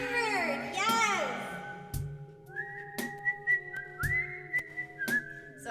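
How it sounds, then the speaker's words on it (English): A person whistles a melody in clear sliding tones, with brief spoken sounds at the start and soft knocks between notes. "So I love to whistle."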